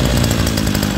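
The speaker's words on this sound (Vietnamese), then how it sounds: "Nghe máy lớn nó chạy nè cô chú" A Japanese used Robin 38cc-class brush cutter engine running loud and steady at close range, a dense buzzing two-stroke roar with no pauses.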